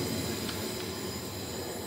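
Train rolling along a nearby railway track beside a driveway where 1999 Mazda Bongo brake work is under way: a steady, fairly loud broadband rumble with faint wheel squeal, continuous throughout and without voices.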